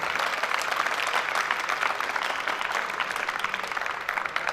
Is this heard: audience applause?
yes